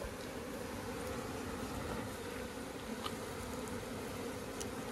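A dense, continuous buzz of honey bees swarming around a hive, steady and close with a few brief clicks or knocks mixed in, no speech.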